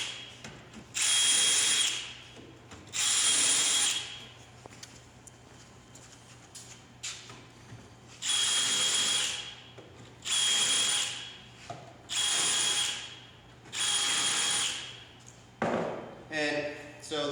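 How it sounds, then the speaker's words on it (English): A power drill bores holes into a single-door base cabinet in repeated loud bursts of whirring, roughly eight runs separated by pauses, with a voice talking quietly in the gaps. "Go ahead and drill your holes again."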